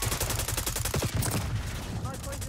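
Rapid automatic AK-47 gunfire in the video game Call of Duty: Black Ops 6, a dense run of close, sharp shots in quick rhythm, with a voice talking over the final moments.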